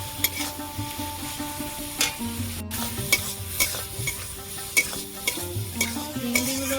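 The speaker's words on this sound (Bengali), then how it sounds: "গ্রেভির মধ্যে দিয়ে ভালো করে কষিয়ে নিবে চিংড়ি ভালো ভাজা ভাজা হয়ে যায়" Prawns stirred and sautéed in a thick gravy in a pan, a steady close sizzle with repeated sharp scraping and clinking strokes of a spatula against the pan, no voices.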